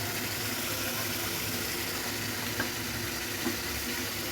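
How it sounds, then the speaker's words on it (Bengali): Leftover curry being sautéed in a pan sizzles in a continuous, even hiss, with a couple of faint stirring taps and no voices. "কষিয়ে নিচ্ছি একটু অল্প করে, 2-3 মিনিট একটু কষিয়ে নিব।"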